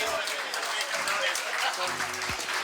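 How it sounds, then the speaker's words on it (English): An audience at an Entente Florale Europe prize-giving awards ceremony applauds steadily, dense clapping throughout with a voice briefly heard near the end. "A last applause to this party joining on the stage"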